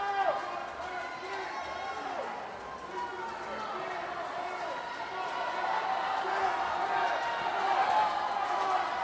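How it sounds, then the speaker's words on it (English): A crowd cheers swimmers on at a 2012 Summer Games aquatics race, a continuous roar of shouting voices that builds toward the end, with a commentator talking over it. "Crowd's really encouraging Michael Shank in lane 6, trying to bring him home with the victory here"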